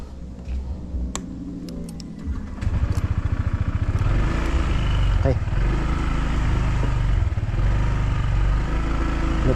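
A tricycle motorcycle engine idles, then starts up and settles into a steady, loud putter with a rapid rhythmic chug as it pulls away, running close by and continuously, with faint voices underneath.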